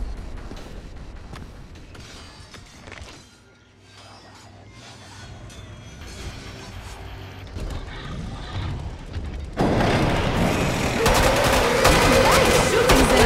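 Gunfire rattles in the Killing Floor 2 video game as players shoot Zeds, with dense clattering bursts and mechanical creaks that grow louder, erupting into a sustained heavy barrage for the final few seconds.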